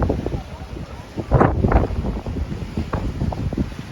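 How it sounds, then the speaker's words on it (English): Strong storm wind blows across Lake Chapala, buffeting the microphone with constant loud rumbling gusts while water churns underneath. A stronger gust comes near the middle. "I don't think this wind's going to calm down"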